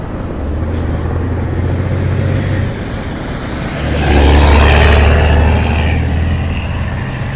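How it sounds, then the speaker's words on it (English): Busy city street traffic with cars, trucks and buses rumbling past nearby, a loud steady roar that swells midway as a heavy vehicle goes by, with no voices. "holy crap, the noise pollution from all the traffic here is insane."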